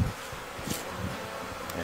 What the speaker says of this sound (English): You can shake those bees right up to the entrance.